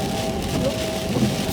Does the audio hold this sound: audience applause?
no